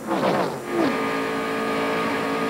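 Stock race cars roar around the track at the 1993 Daytona 500, loud engines rising and falling as cars sweep past, then settling into a steady, sustained drone.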